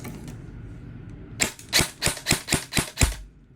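A We RIS gas-blowback airsoft rifle fires a quick burst of about seven sharp, evenly spaced shots on full auto during a chronograph FPS test, loud and close with no talk.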